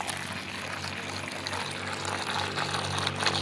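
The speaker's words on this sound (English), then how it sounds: "And then I had to pour the water again right in the middle." Water poured into a vessel in the middle, a steady continuous splashing trickle at close range that grows slightly louder toward the end, with no talking.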